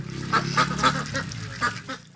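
Ducks at a commercial duck farm in Netrakona, Bangladesh, let out about four loud, nasal honking quacks at irregular intervals over a busy, continuous background of flock calls.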